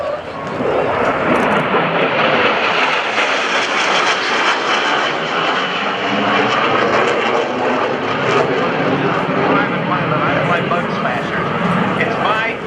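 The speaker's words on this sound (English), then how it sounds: "here comes the single chip. Yep, this is the last A-18C Hornet from BFA 106, followed by Lieutenant Gasser" An F/A-18C Hornet jet flies past at a naval air station airshow, its engine roar loud and sustained, rising and falling slightly, with a commentator talking over it.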